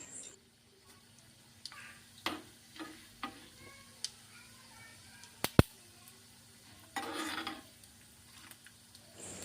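Chana dal, urad dal, mustard seeds and cumin frying in a little oil, faint sizzling under scattered sharp clicks and taps of a spoon against the pan, with a brief louder burst of hissing near the end; no talking.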